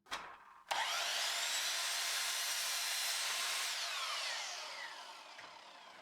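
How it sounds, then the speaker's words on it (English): Miter saw slicing through a wood board for window trim: a click, then the blade spins up into a loud, steady whining cut lasting a few seconds before winding down, close and without talk. "That helps line it up for our miter saw cut."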